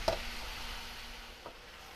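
Onions frying in a pan for a baked ziti, a steady soft sizzle with a brief stir or scrape at the start and another near the end.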